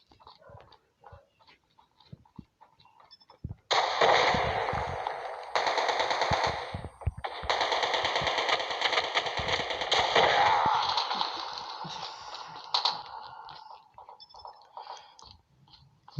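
Sustained bursts of rapid gunfire in a ranked video game match, loud and dense, come in several long runs split by short gaps. The burst trails into sparser shots and quiet game sounds.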